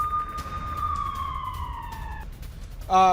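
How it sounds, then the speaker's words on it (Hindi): Air raid sirens wail in Israel, a long descending tone sweeping down over about two seconds against steady background noise, followed by a brief harsh electronic burst at the end. "लेकिन सायरन अभी भी बज रहे हैं"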